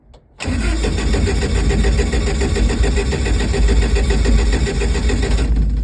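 A Datsun car engine cold-starts with the choke set after sitting for a week, then keeps running at a steady, loud, rough idle close by with no one talking.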